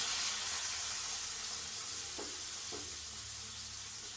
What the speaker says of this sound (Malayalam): ഇപ്പൊ നമ്മുടെ കയ്യിൽ നിന്ന് കുറച്ച് വെളിച്ചെണ്ണ മാറ്റി വെച്ച് ഇനിയിപ്പോ ഇതിലേക്ക് ഫസ്റ്റ് ഉള്ളി ഇട്ട് കൊടുക്കാം.